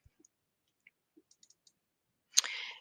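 A computer mouse clicks several times, faint and scattered, while a T-shirt design is made in Canva, ending in one sharper, louder click with a short rustle after it and no voice.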